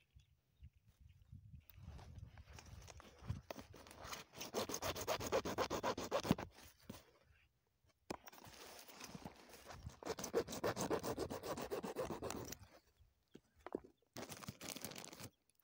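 Old, expired rubber grommets are cut away by hand on a farm, heard as close, scraping and rubbing strokes in several bursts separated by quiet gaps.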